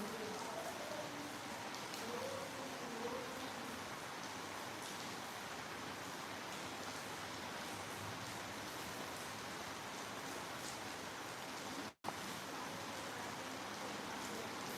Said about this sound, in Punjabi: ਬਹੁਤ ਹੀ ਜ਼ਿਆਦਾ ਬਾਰਿਸ਼ ਹੋ ਰਹੀ ਹੈਗੀ ਆ